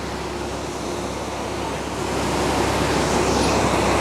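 Heavy rush of water pouring through canal lock sluices, a loud, steady roar of broadband noise that swells a little midway, with no speech over it.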